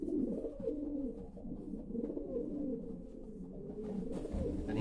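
Racing pigeons in a loft cooing steadily, low soft repeated calls layered from several birds close by, with no talk.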